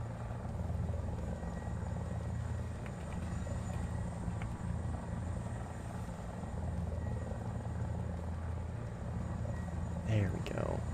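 A helicopter in War Thunder flying steadily, a continuous low rotor thrum and engine drone throughout, with a brief sharper burst near the end; the drone runs alone at moderate level.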